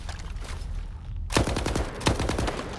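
Gunfire in the S.T.A.L.K.E.R. 2 video game aimed at an anomaly, a quick burst of several sharp shots that starts suddenly after a quiet stretch of ambient hiss.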